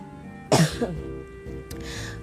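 A single sharp, close cough is followed by a smaller throat-clearing sound in a quiet indoor room.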